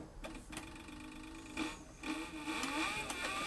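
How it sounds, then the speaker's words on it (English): A saddler's sewing machine driven by a servo motor runs slowly, giving a soft mechanical whir with periodic ticking needle strokes and small surges in pace, fairly quiet and with no voices. "I like this servo motor because you can just really slow it down and concentrate on sewing right in the groove."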